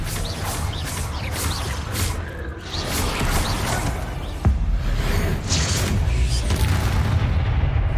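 A Confringo fire spell from Hogwarts Legacy bursts in a loud, booming explosion with a sharp crack midway, set within dense, continuous game combat noise.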